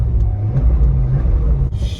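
A 2003 Chevy Corvette with an automatic transmission and 58,000 miles rumbles at a deep, steady idle just after start-up, close and loud, ending with a short hiss.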